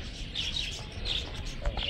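Small birds chirp and tweet at a bird-feeding attraction at York Wild Kingdom, a busy mix of calls under a steady background hum.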